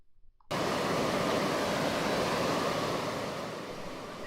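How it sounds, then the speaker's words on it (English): Clear water of a stream at the source of the Current River gives a steady, broad rushing wash. It starts abruptly after a brief quiet moment and then holds constant and close before easing off slightly toward the end. "you'll see a clear water stream with a sign that says Current River"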